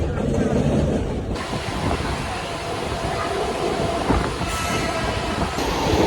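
A crowded evening commuter train in Mumbai heading toward Victoria Terminus rumbles steadily from inside the carriage, with loud continuous rolling and wheel noise filling the whole stretch and faint voices underneath.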